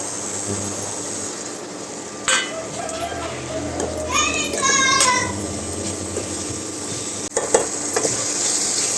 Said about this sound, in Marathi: तळलेले वांगे घालू यामध्ये आता